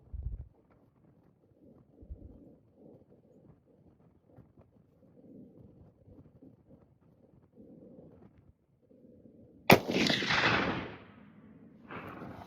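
A loud, sharp rifle shot from a Christensen Evoke chambered in 7mm Remington Magnum cracks outdoors and rolls off in a long echo. Quiet wind and shuffling come before it, and another blast starts near the end.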